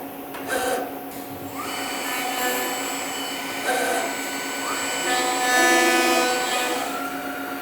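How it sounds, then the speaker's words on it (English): Commander 3 machine cutting hinge recesses in a door jamb, a whirring router whine rising and falling in bursts over a steady mechanical drone, loud and close. "typically you would go ahead and apply your hinge as it's machining the next one"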